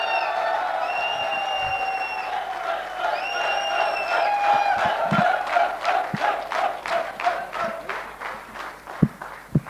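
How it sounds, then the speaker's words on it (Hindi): A seminar audience at a network marketing talk in India raises shouts and cheering voices, then breaks into loud, rhythmic clapping that keeps a steady beat and grows sharper toward the end. "तालियां एक बार दमदार।"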